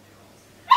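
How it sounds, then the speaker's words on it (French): A dog grumbling from outside the room gives one short, sharp whimpering yelp right at the end, after near silence. "Irwin râle parce qu'elle est pas dans la pièce"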